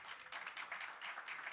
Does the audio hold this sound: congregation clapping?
yes